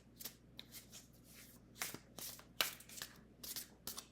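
Tarot and oracle cards riffle and slide through the hands in a steady run of soft papery flicks and snaps, close and fairly quiet, with no talking.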